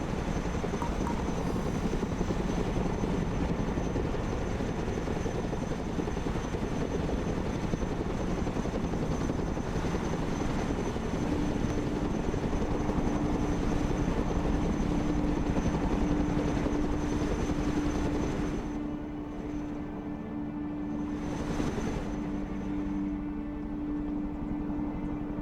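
A Chinook helicopter flies in the video game Broken Arrow, making a constant heavy rotor drone with a thick, rumbling wash that holds steady for over twenty seconds before thinning slightly near the end.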